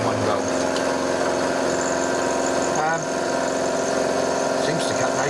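A mini lathe runs steadily with a cutter taking a 3 mm pass on a workpiece held in a new vise, giving a continuous mechanical drone with a brief dip near the middle.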